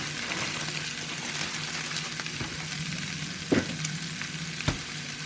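Rice with peas and carrots frying in oil in a Hexclad pan, a constant close sizzle with a few sharp utensil knocks, no talk.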